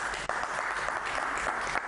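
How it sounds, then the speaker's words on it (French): Steady applause from a debate audience, a continuous dense patter of clapping that holds at an even level throughout. "On applaudit pour toute l'équipe technique, voilà."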